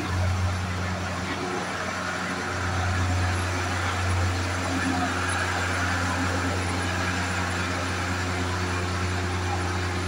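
A steady low rumble of a train at a Philippine National Railways station fills the whole stretch, with continuous broadband noise and a constant hum underneath.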